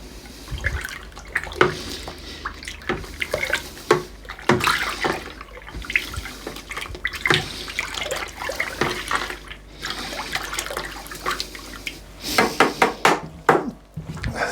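Home-brewed ruby red ale wort being stirred in a fermenting bucket to mix in hop powder floating on top, giving an irregular sloshing, swirling liquid sound with splashy bursts, close and fairly loud.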